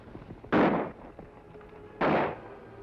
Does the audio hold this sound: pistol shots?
yes